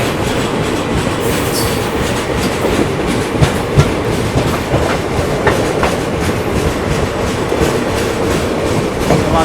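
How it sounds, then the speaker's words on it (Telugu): The Sanghamitra Superfast Express rolls slowly past Ambur station, its wheels beating a steady, loud clickety-clack over the rail joints against a constant rumble, with no voices. "మనమైతే ఇప్పుడు అంబూర్ స్టేషన్ని స్లోగా స్కిప్ చేసుకుంటూ వెళ్తున్నాం."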